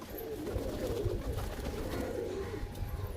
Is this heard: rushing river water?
no